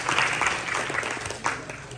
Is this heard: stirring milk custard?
no